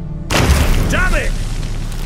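Fire bursts into flames in The Witcher 3: Wild Hunt, Hearts of Stone. A sudden deep whooshing boom erupts after brief silence and rolls on loudly, while a voice cries out briefly over the roar.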